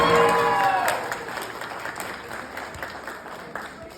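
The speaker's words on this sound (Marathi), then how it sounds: "भावांसाठी टाळ्या वाजू दे." Audience applause at a Marathi stage event, a dense burst of clapping that starts loud and gradually thins and fades.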